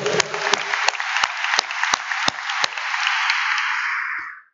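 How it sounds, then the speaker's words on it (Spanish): A church congregation applauding during a sermon, with loud sharp individual claps standing out over a dense round of clapping that fades away at the end. "Un aplauso"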